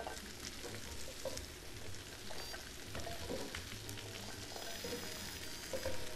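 Vegetables browning in a hot frying pan sizzle and crackle steadily up close, a constant hissing fry with small pops and no talking.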